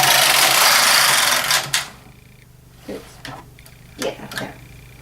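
A Toyota 950 knitting machine with a 506 ribber, its carriage drawn right to left across a row at zero tension, gives a loud, steady rasping sweep lasting under two seconds, followed by a few soft scattered clicks and knocks.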